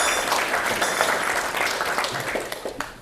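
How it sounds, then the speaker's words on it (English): Audience at an agricultural journalism panel discussion applauds to welcome the panel, a dense, steady round of clapping that fades slightly toward the end. "please welcome the panel with a warm applause"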